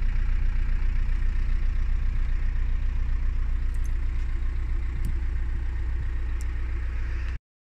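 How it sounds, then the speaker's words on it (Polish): A 1.7 CDTI diesel engine in a 2004 Opel Meriva idles at a steady, even rumble, heard close and continuous until it cuts off abruptly near the end. "Silnik pracuje ładnie, równo."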